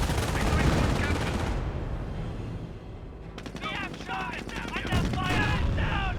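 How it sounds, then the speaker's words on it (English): Rapid machine gun bursts and sniper shots crackle in a Company of Heroes battle, dense gunfire filling the first seconds, then sharper scattered reports, with faint unit voice chatter mixed in. "Snipers firing away."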